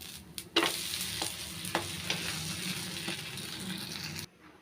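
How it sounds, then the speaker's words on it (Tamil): Red rice adai dosa frying in a little oil on a pan, a steady close sizzle with a few sharp scraping clicks of a spatula turning it. "லைட்டாக எண்ணெய் விட்டுக்கிறேங்க கீழே வந்து நல்லா வெந்துருச்சுங்க பரட்டி விட்டுக்கிறேன்"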